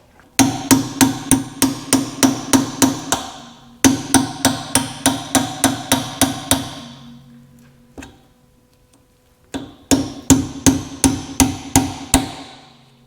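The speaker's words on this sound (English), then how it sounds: "I'm going to get in here with a chisel, kind of work this seal a little bit, pop the seal out" Steel chisel hammered against a Ford differential pinion seal during a rebuild, three quick bursts of sharp metallic blows in steady rhythm, close and loud, with brief pauses between runs.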